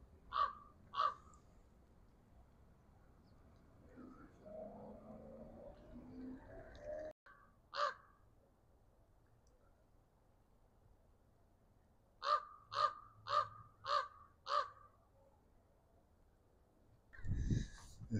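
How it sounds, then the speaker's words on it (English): A crow or raven caws outdoors in a park in Los Alamos, calling first in a pair, then once more, then a rapid run of five caws, moderately distant over quiet background. "I got us a crow or a raven up there squawking."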